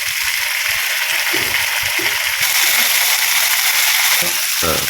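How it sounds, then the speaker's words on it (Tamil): Chicken frying in a pan over a wood-fired stove, a loud continuous sizzle and crackle heard up close with occasional stirring sounds, no talk. "இப்போ நம்ம சிக்கனை இது கூடவே சேர்த்துக்கலாம்"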